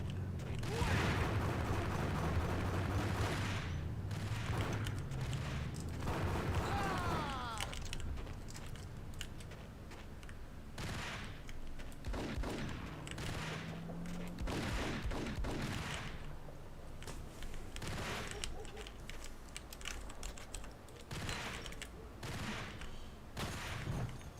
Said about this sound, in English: He's a horrible shot. He's just panic firing.